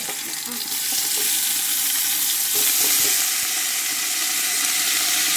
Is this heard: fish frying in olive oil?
yes